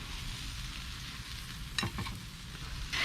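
Sausages and burgers cooking on an outdoor grill give off a soft, steady sizzle and hiss, with a few brief crackles, heard faintly and with no talk.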